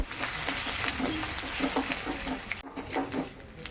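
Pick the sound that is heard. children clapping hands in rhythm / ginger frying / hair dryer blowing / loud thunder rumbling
ginger frying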